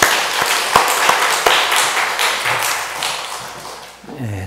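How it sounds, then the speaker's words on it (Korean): A church congregation claps during a worship service, with scattered sharp claps and taps at first that thicken into steady mid-level applause before tapering off near the end. "하나님께 영광의 박수 돌려드리겠습니다"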